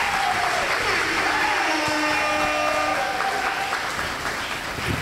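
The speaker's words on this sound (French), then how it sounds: "Acclamez pour le frère." An assembly applauding during a wedding blessing, a dense, steady wash of clapping that fills the room throughout, loud and continuous.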